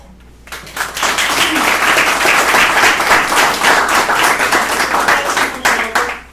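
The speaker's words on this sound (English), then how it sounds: "Let's give them one more round of applause." An audience at a school board meeting bursts into sustained, loud applause, many hands clapping steadily for several seconds before it begins to fade.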